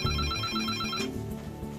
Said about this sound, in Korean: 모든 비상 대응을 최우선적으로 해야 되는 풀 이머전시 상황에 그 전화가 울립니다.